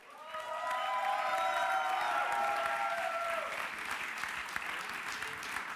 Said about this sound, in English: Now a big, big, big applause to Benedict and Eros!